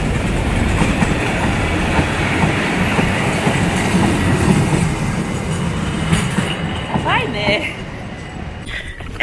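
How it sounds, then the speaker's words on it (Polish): A narrow-gauge train near Niechorze on the Baltic coast rolls past close by with a loud clickety-clack of wheels on rails and brief squeals. A person talks over it. "My teraz tutaj jedziemy sobie wzdłuż wąskotorówki i patrzcie co nadjeżdża! Pociąg!"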